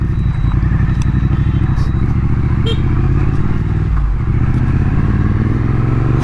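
A Triumph Street Twin motorcycle is ridden along a road, its engine giving a steady, loud, close throb that runs without a break, with a brief dip in the low rumble partway through.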